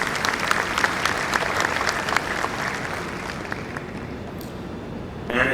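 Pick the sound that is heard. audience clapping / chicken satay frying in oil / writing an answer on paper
audience clapping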